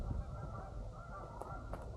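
Geese honk at Kohler Andrae State Park in Wisconsin on a wintry trail, a few calls rising over a steady wash of wind and outdoor ambience at moderate distance.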